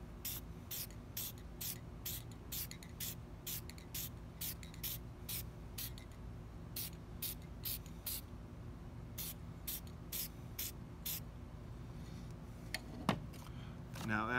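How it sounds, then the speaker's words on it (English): A spray can fires in short, regular bursts, one after another across the whole stretch, as coating is applied in sweeping passes rather than aimed at one spot, with a brief clatter near the end. "Notice how I'm not just pointing it and spraying it. It's always just a movement, so you're not concentrating the spray on one particular area."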